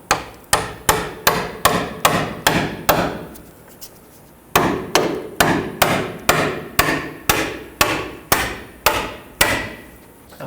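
Hard metallic hammer blows strike near a rear transmission mount on a 2007–2009 Saturn Aura, loud and close, in two steady runs of about eight evenly spaced hits each, split by a short pause.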